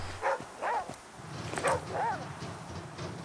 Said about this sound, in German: Und der Aesop bellt schon wieder.